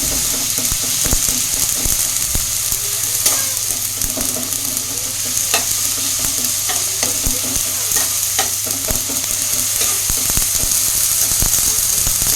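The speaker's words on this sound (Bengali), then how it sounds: "হলুদ দিয়ে মশলাটা আমি ভালো করে ভেজে নিচ্ছি।" Masala with turmeric fries in a pan, giving a steady loud sizzle throughout with intermittent stirring scrapes and clicks close by.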